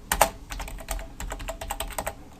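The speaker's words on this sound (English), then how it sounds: "we'll type in some inline JavaScript" Rapid, close clicking of computer keyboard keys as code is typed, an uneven burst of key presses with no talking.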